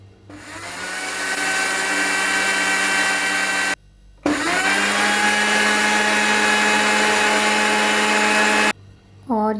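A Panasonic MX AC300 mixer grinder whirs loudly, grinding hard raw rice into powder with a steady high motor whine, stops briefly, then runs again for several more seconds before cutting off.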